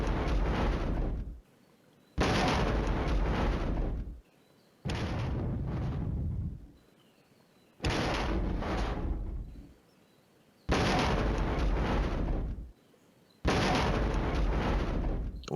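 Improved munitions artillery strikes in the Flashpoint Campaigns: Red Storm war game: a series of six loud, sustained roaring barrages of explosions, each lasting one to two seconds, separated by short near-silent gaps.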